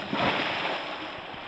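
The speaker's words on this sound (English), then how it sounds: "I'm going to push off, and I'm going to do a belly flop, and I'm going to push my hands out" Belly flop splash into a swimming lagoon, a broad burst of churning water that swells early and then settles into a steady wash, fairly close and alone.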